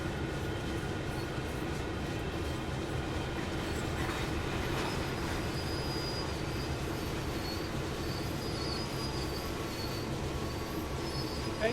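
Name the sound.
train shunting and coupling in Train Sim World 4 video game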